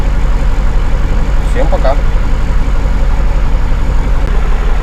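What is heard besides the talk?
KAMAZ truck engine idling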